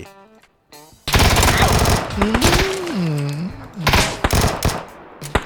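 Rapid gunfire in the video game PUBG, loud bursts of shots overlapping with excited talking and a rising, wavering voice; the shooting is dense and close, with short gaps.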